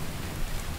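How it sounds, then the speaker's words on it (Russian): Rain in the video game The Infected hisses steadily as a dense, even wash of patter, moderately loud and continuous, with no voices over it. "дождь запустили они, да?"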